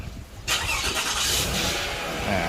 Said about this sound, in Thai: ตอนนี้เครื่องยนต์ติดแล้วนะครับ